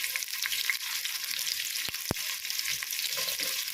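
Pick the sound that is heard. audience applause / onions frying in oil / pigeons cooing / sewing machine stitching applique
onions frying in oil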